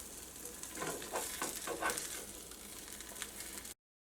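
A broccoli and wheat pancake frying in a pan just after being flipped, a soft steady sizzle with faint crackles and light stirring noises, heard alone at low volume before cutting out abruptly.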